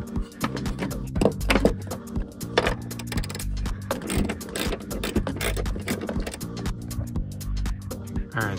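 A hand ratchet clicks in quick, uneven bursts while 14 mm strut bolts are backed out on a 2014 Mazda 6, with close metallic ratcheting and occasional knocks from the tool.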